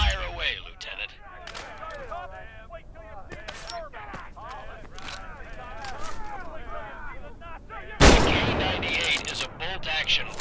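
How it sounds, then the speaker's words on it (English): Gunfire inside the World War II game Medal of Honor: Above and Beyond in VR: sharp rifle reports sit under constant battlefield clamor. A bigger blast near the end suggests a K98 bolt-action rifle being fired. "K98 is a bolt-action rifle, so you reload by pulling and pushing the bolt after each shot."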